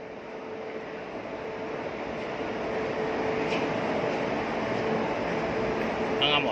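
An MRT train at a Jakarta station, a steady broadband rumble and hum of rolling carriages that holds close and even throughout, slightly louder toward the end, with a faint brief squeal near the finish.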